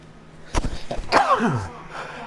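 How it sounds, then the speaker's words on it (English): A single sharp sneeze, close and loud, followed by a brief trailing exhale. "Sneeze attack."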